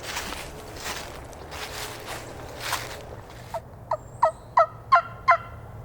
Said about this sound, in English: bird gobbled down by the river.